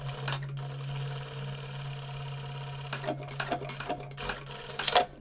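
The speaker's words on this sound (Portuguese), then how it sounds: "E aí eu vou fazer duas costuras aqui, uma bem na pontinha." Domestic sewing machine stitching seams on a surgical hospital uniform, a steady motor hum running through the whole stretch with brief bursts of faster stitching and fabric handling near the end.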